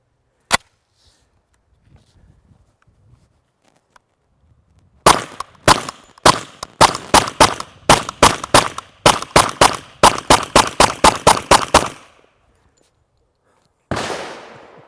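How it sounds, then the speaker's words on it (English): Suppressed .45 ACP rounds go through a Dead Air Ghost silencer: one lone shot, then a fast string of about twenty loud, muffled cracks close by, and a final shot after a pause. "I just put 20 rounds of 45 ACP through it."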